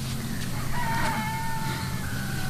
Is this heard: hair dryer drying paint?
no